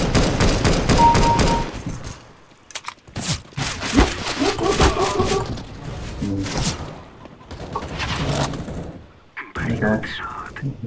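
Rapid bursts of automatic gunfire from a first-person shooter deathmatch, played in Polish sparring gloves, come in dense clusters separated by short lulls, with a person talking over the shooting.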